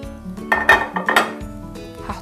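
Medium pieces of meat drop into a metal cooking pot with a few clanking, clinking knocks of metal against metal, close and distinct, with no talk.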